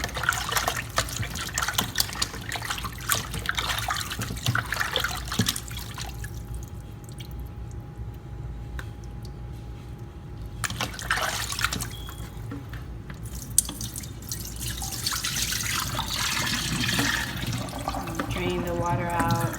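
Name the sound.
tap water running while washing raw chicken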